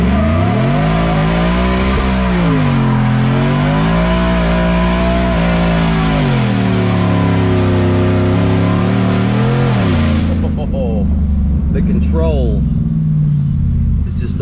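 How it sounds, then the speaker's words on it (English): A supercharged Ford F150 pickup with a limited-slip differential and 4.88 gears does a burnout, its engine roaring loud and close with rising and falling revs for about ten seconds before cutting off into a quieter idle. "A little burnout to warm up the tires and show you this new limited slip diff."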